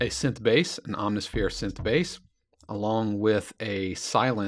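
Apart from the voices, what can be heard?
None of the usual background noises is heard.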